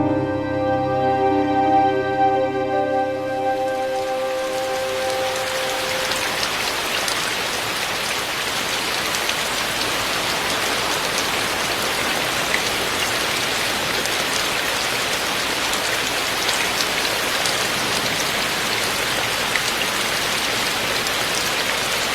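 Steady rain pours down on the walls of Magoksa, an ancient Buddhist temple in Gongju, a dense hiss of drops spattering on hard surfaces, continuous and close, after a brief tonal sound fades at the start.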